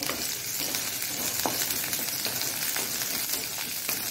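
Curry leaves sizzle and crackle in hot oil with onion and garlic, a dense continuous hiss with occasional stirring taps, fairly quiet and close.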